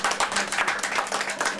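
An audience applauds a speaker at a French-language gathering, a short burst of brisk, fairly close clapping with no talk over it.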